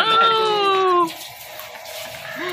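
A tap runs at a mosque, heard as a steady, fairly soft hiss of flowing water that follows a brief tonal sound at the start.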